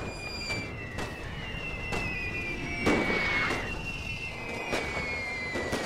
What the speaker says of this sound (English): And an artillery shell just hit my house.